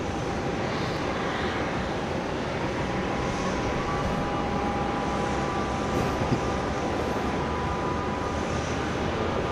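A jet aircraft taking off at Brisbane Airport, a loud, continuous broadband engine roar with a steady whining tone, heard from nearby without any talk.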